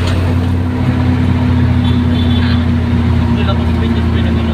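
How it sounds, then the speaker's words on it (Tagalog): A car engine hums in a steady low drone throughout, with people talking over it. "Ano ang ugong ng makina"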